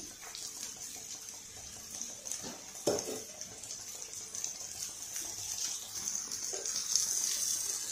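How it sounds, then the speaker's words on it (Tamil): Soft scraping and stirring of poha (flattened rice) upma in a pan over a faint background hiss, with a couple of sharper clinks of a spoon against metal. "நல்லா கிளறி விட்டுறணும்"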